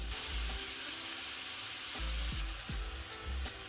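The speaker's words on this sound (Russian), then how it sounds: "на этой же сковороде, пока без добавления масла, она должна быть горячая, обжариваем говядину" Beef strips sizzle loudly in a hot, dry pan without oil, a constant crackling hiss with occasional clinks and scrapes of stirring.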